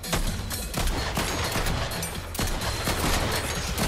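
Gunfire in the video game Fortnite rattles in dense, continuous volleys of rapid shots, loud and busy from start to finish.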